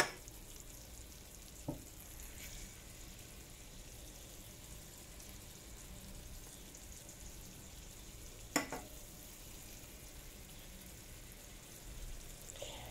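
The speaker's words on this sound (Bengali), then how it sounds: "এই যে এখানে আমি মাসকলাইয়ের ডাল রান্না করতেছি মাছের মাথা দিয়ে" Black gram dal simmering with a fish head in a pan gives off a faint, steady frying sizzle with a couple of light clinks of utensils, low and continuous, no talking.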